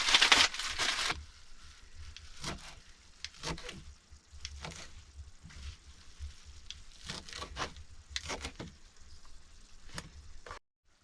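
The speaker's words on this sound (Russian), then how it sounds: "Надо нарезать петрушку." Knife chopping parsley on a cutting board in scattered bursts, some quick runs of chops, quiet and close with a soft background hum.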